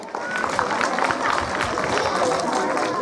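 A school audience at a Republic Day program claps in a dense, steady burst of applause lasting a few seconds, loud and continuous with a crowd murmur beneath it.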